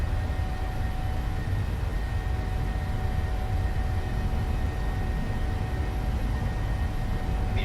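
Airliner engines hold takeoff thrust in a flight simulator, a loud steady roar with a broad rushing hiss and faint tonal whine, constant throughout with no talk over it.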